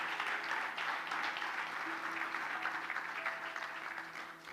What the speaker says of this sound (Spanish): Levántale un aplauso al Señor, iglesia